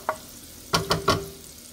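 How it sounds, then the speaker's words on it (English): Vegetables pushed aside in a pan for a creamy corn gratin give three quick scraping stirs in a row, close and fairly loud, after a single faint scrape. "I'm gonna push these vegetables out of my way"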